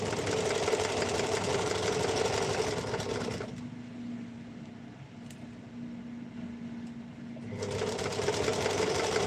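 A sewing machine stitches a pillowcase in a steady, close whirring run, pauses for a few seconds to a quiet hum, then starts again.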